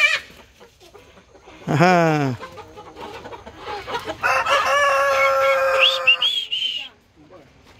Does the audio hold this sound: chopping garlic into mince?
no